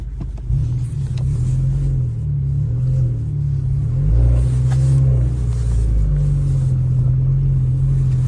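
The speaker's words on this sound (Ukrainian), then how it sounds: "давайте тоді вмикаємо задню і погнали" A car on summer tires tries to reverse up a snowy slope in winter, its engine droning in a low steady rumble that swells briefly as it revs, close and continuous.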